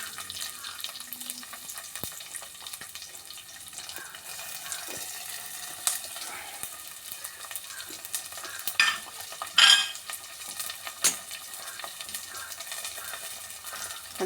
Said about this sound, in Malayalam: ഇനി നമ്മൾ അരിഞ്ഞു വെച്ചിരിക്കുന്ന ഇതെല്ലാം കൂടി ഞാൻ അതിലേക്ക് അങ്ങ് ഇടുകയാണ്.